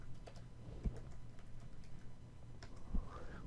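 Quiet keystrokes tap on a computer keyboard while entering text in an Excel spreadsheet, a few soft clicks against a low background hum.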